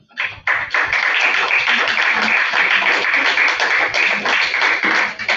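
A room at a board meeting breaks into applause: many hands clapping steadily and densely for several seconds, fairly loud and unbroken, with no talking over it.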